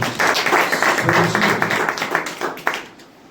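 A church congregation claps together in praise, a brief burst of dense handclaps that rises quickly, holds for about three seconds, then fades.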